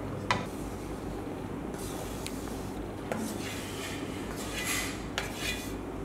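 Metal utensils scrape and clink against a pan as a thick jowar flour and ghee ladoo mixture is scooped out into a wide plate, quiet, with a few sharper taps.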